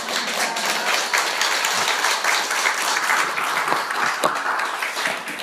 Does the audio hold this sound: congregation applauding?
yes